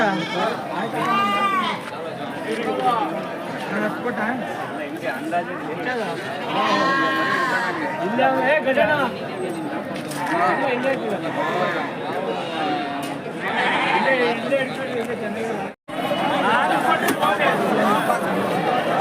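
Lambs and young goats bleat repeatedly at the weekly Tuesday livestock market at Tumakuru APMC. Their cries overlap with the constant chatter of a busy crowd, and people talk nearby throughout.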